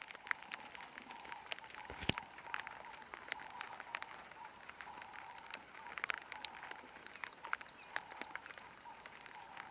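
Rain patters steadily during an open-air morning safari drive, a faint, dense spray of small drops tapping nearby surfaces with occasional sharper hits, and no voices.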